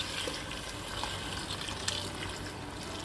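Water flows into a cooking pot holding stock cubes and barley for a stew, a soft, steady pour at close range with a faint splash or two and no voices.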